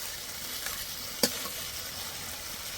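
Ground fennel paste frying with ginger and garlic in a pan, giving a steady, even sizzle throughout, with one sharp utensil tap near the middle, close and moderately loud.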